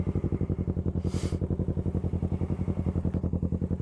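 A V-twin motorcycle engine with its exhaust baffle removed idles close by in a steady, rapid loping pulse, loud and alone, with a brief hissy burst partway through.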